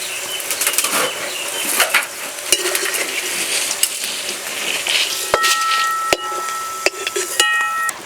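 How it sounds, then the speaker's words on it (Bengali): Potatoes fry in a pan for a Bengali katla fish-head and pui shak ghonto, giving a steady broadband sizzle with a few sharp utensil clinks and scrapes against the pan. "আলু ভাজতে ভাজতে প্রায় সিদ্ধ হয়েই গেছে।"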